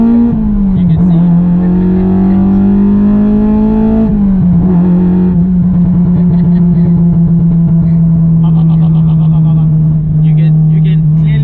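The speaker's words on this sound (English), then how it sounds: "Am I supposed to rev it up more?" A Honda K20 engine with individual throttle bodies in an Acura RSX DC5R roars loudly and continuously from inside the car while driving, its pitch holding high with a brief dip as the revs change.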